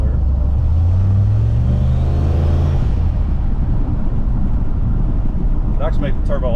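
An LS-swapped Ford Ranger with a turbocharged, cammed 5.3 LS V8 and a single flow-through muffler revs up and then settles into a loud, choppy, steady rumble close by, with a brief voice near the end.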